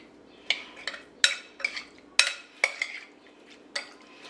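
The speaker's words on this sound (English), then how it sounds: "we're just going to give that a stir, give that a good mix" A spoon scrapes and clinks around a pot while olive oil is stirred into cabbage with cleaned shrimp, giving about eight sharp metallic knocks in an uneven rhythm, close and fairly loud against a quiet room.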